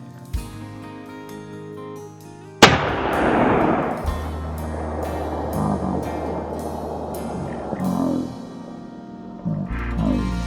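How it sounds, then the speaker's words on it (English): A single loud rifle shot fired at a deer on a hunt in Mexico cracks sharply and rolls away in a long echo. A steady tonal hum runs in the background before and after. "This was a one shot, and I hit him perfect. 533 yards."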